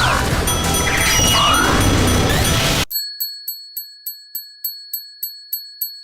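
Gundemoniums shooter game: a dense burst of blasting gunfire gives way to a rapid series of about a dozen bright metallic ringing chimes as Aerith's overheated guns cool.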